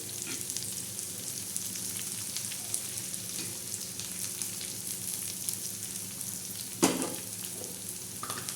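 Onion and dried shrimp fry together in a pan with a steady, quiet sizzle, broken by occasional soft stirring clicks and one sharper scrape near the end.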